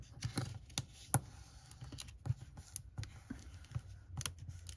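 Paper being folded by hand for a junk journal project, giving a run of crisp, close crinkles and sharp papery clicks, with several louder snaps spread across the stretch and no talking.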